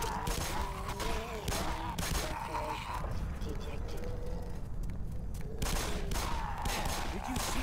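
Rapid bursts of gunfire crackle through a Black Mesa game battle, layered with dense effects and game voices talking over the shooting.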